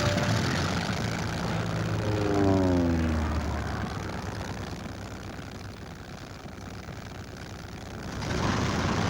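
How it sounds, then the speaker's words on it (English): Messerschmitt fighter planes of a Finnish air regiment in flight, a dense, continuous propeller-engine drone whose pitch sweeps downward as an aircraft passes, swelling and easing over several seconds before rising again, with no voices. "Number 3 Air Regiment flew Messerschmitt fighters to reconnoitre the movements of Soviet troops"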